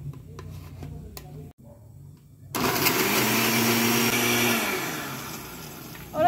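A kitchen blender grinds garlic cloves with a little water, starting abruptly after a quiet pause and running as a loud, steady whirring grind with a shifting pitch for several seconds.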